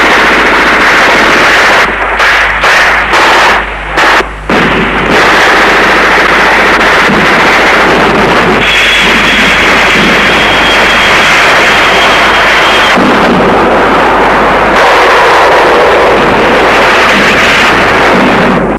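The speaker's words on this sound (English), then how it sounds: "comes under ferocious artillery bombardment." Heavy gunfire and artillery bombardment from Nigerian civil war combat, with loud, dense bursts of machine-gun fire and booming blasts crackling continuously through the scene.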